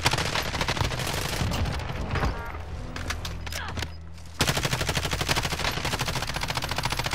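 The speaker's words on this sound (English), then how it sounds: "Shooting his, I shot his feet a couple times." Rapid automatic gunfire in Call of Duty Warzone's Zombie Royale mode, dense continuous bursts with a short lull midway before the shooting resumes at full intensity, loud and close.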